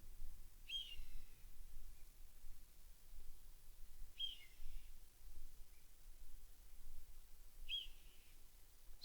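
A young hawk calls from a few hundred yards away on a quiet rural property, three short, thin, high cries spaced a few seconds apart over faint background hiss.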